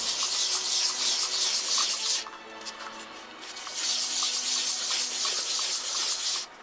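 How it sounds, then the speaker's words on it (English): Sandpaper rubs down filler on a Star Trek cricket phaser prop in two long, steady, hissing passes, with a brief quieter pause between them. "Here I'm in the process of rubbing down where I put the filler."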